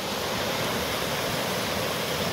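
A river running somewhat high, producing a dense, steady rush of flowing water that fills the whole stretch at close range with no breaks.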